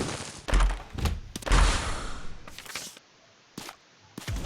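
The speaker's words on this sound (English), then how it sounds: "That's a troll bomb." A troll bomb going off in The Binding of Isaac: Afterbirth, heard as several heavy, muffled thumps and bursts in an uneven sequence, separated by short quiet gaps.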